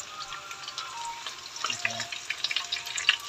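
Egg frying in a pan alongside squash flowers and leaves, a soft steady crackle that grows into sharper popping spatters toward the end.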